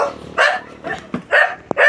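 A dog barks nearby in several quick, loud yips and bow-wows, with short gaps between them and a brief sharp sound near the end.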